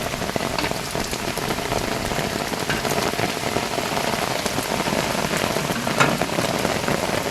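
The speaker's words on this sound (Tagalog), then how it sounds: "Ayan guys, ang lakas na ng ulan." Heavy rain from Typhoon Enteng pours steadily in Vigan, Ilocos Sur, a dense, even hiss of drops pounding a surface with no pauses and no voices.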